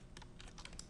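Quick burst of typing on a computer keyboard during an After Effects session, a few crisp clicks close to the mic over steady low hum.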